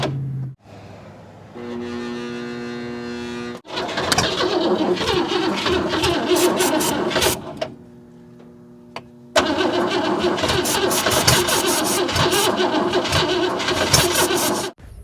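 A 1957 Oldsmobile Rocket V8, abandoned for 30 years, cranks on its starter in repeated bursts, catching briefly and roaring loudly before cutting out, then cranking and running rough again close by.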